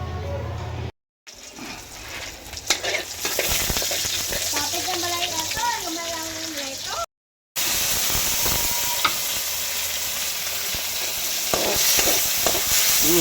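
Beans sauté in a hot pan with a steady, loud sizzle and scraping stirs that come and go, broken by two short silent gaps, with no one speaking over the cooking.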